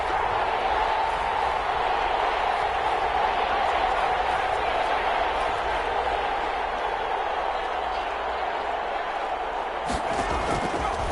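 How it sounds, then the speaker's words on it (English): A stadium crowd in the Madden football video game roars in a steady, dense wash ahead of a big third-down play. The noise stays loud and even throughout, and a voice may be heard over it. "the crowd getting into it as we come up on a big 3rd down"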